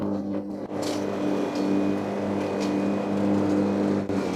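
A riding lawn mower's engine labouring under load while it is fed heavy grass, heard as a steady, loud mechanical drone with a strong low hum and a few small dips in pitch, close by.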